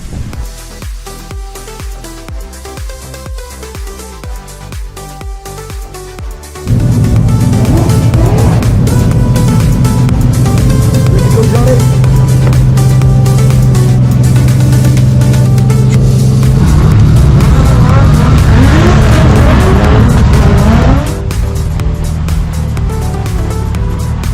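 Drift cars with thousands of brake horsepower race in close quarters on a tight track, engines roaring loud and continuous with rising and falling revs and tire noise, starting after a quieter stretch.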